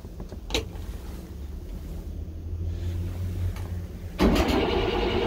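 Rail King SS4450 engine cranking over, a low rumbling turnover running steadily for several seconds with a brief catch near the start and a louder surge toward the end, close by with no talk.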